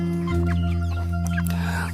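Free-range village chickens give brief clucks over a steady low hum, soft and somewhat distant, with short scattered calls.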